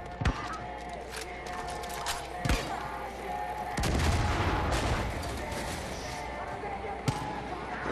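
Sniper gunfire in the Far Cry 5 video game, a few sharp distant cracks over a steady background of game ambience, with a heavier rumbling blast midway.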